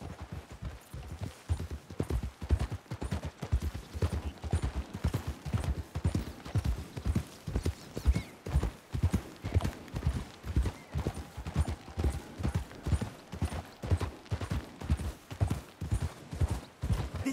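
Horse hooves clip-clop in a steady, brisk rhythm on a hard surface, fairly quiet and continuous with no voices.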